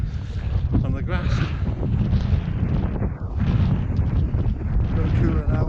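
Strong gusty wind buffeting the microphone on a snowy mountain walk at Y Garn, a loud, close, rumbling roar that rises and falls, with a person speaking over it.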